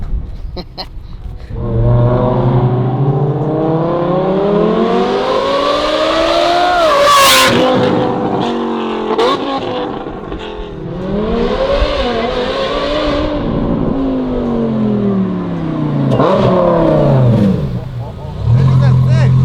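A Lamborghini Huracan with F1-style headers and exhaust revs hard several times, rising to loud, high-pitched wails with crackles and falling back between pulls, close by and dominating, with brief quieter gaps between revs.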